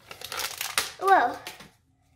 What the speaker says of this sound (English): I'm just trying to get a plastic piece off.